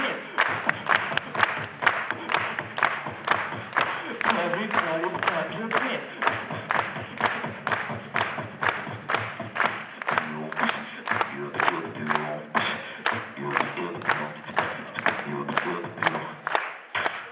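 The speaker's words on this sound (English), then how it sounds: "Everybody, clap your hands." A talent show audience claps along in a steady rhythmic beat throughout, crowd noise and voices mixed in beneath a beatbox performance at a 2012 high school show.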